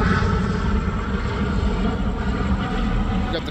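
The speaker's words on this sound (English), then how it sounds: "You got the helicopter, Star 9 up in the sky." Police helicopter circling overhead during a sheriff's and police response in Hemet, a steady loud rotor and engine drone filling the scene with no letup.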